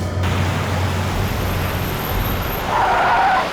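A car braking to a stop in a TV crime drama scene, a steady engine rumble followed by a brief squealing brake or tire sound near the end, fairly close.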